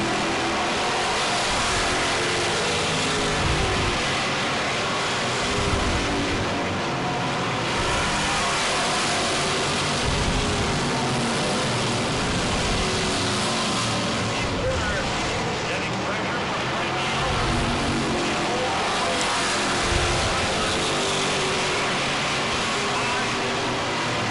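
Race cars roar around a track at a New England racing event, a loud, steady engine wash with swelling passes, heard from a distance through wind noise.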